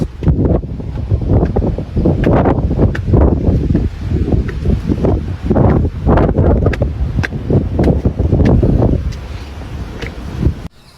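Strong wind on a trek at Senji fort buffets the microphone in loud roaring gusts, rising and falling for several seconds before easing off.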